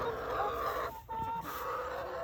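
Chickens cluck softly and steadily at close range, with a brief higher call standing out midway through.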